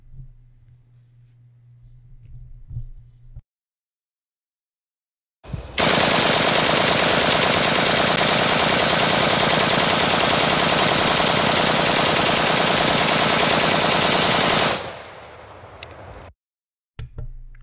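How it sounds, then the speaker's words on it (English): Sustained full-auto fire from a Beta C clone assault rifle played back from a computer, a dense unbroken burst of rapid shots lasting about nine seconds, loud and harsh, preceded by quiet hum and silence. "This is a Beta C clone testing full auto."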